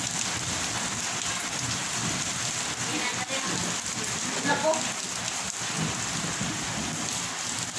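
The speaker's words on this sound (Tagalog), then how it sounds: "Lakas na ulan." Heavy rain pours down in a dense, steady hiss, with a faint voice briefly under it, in Saudi Arabia.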